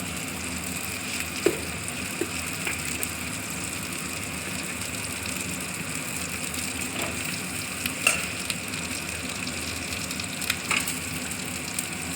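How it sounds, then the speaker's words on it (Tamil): Cumin and coriander seeds frying in a pan for okra tamarind curry, a steady close sizzle with occasional small pops and stirring clicks, no talking. "இப்போ நாம் சீரகத்தையும் மல்லியும் ஒரு கை போட்டுக்கலாம்"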